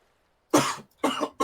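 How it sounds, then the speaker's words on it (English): Two harsh coughs from a survivor in a fantasy tabletop roleplaying scene, the first longer, the second following after a short pause, then a brief start of a third at the very end, close and fairly loud with no talk. "you hear the coughing of one of the folks who has actually managed to survive"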